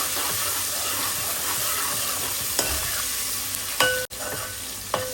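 Onion and tomato with chilli and garlic sizzle steadily in a pan for an Agri-Koli crab curry, a continuous close frying hiss with a few light stirring clicks near the end.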